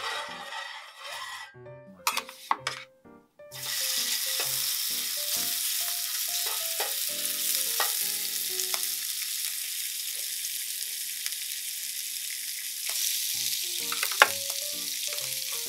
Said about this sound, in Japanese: 180度ぐらいで焼いていきます。